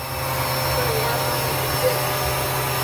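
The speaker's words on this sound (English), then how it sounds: "Do you want to do the big vacuum, not the hose?" A household vacuum cleaner runs at full power in a continuous, loud, steady whine with a low hum underneath, unchanging throughout and close by.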